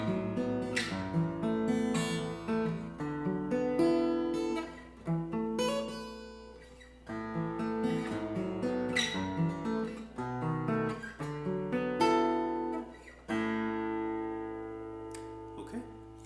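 Guitar softly plays an R&B chorus as a flowing run of plucked notes and ringing chords, quiet and close, ending on a held chord.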